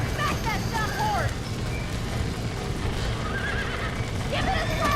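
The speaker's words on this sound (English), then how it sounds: "Back that dumb horse!" Horses in the Red Dead Redemption video game, with two clear whinnies rising above a dense, noisy background of hooves and commotion.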